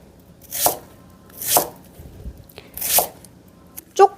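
Green onion cut diagonally with a knife on a board for spicy squid salad, four distinct chopping thuds about a second apart, close and crisp, with quiet gaps between them and no speech.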